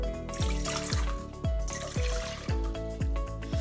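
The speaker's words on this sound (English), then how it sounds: "The first step is to add 2 cups of warm water to your mixing bowl." Warm water runs into a mixing bowl for gluten-free bread dough, a close, steady trickle with a rhythmic gurgling pulse about every half second, alone without any talking.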